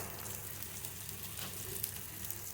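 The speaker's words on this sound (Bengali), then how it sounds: "অল্প অল্প করে তেল দিয়ে দিয়ে এরকম করে ভাজবে" A soft, steady sizzle of food frying in oil, quiet and continuous with faint crackles.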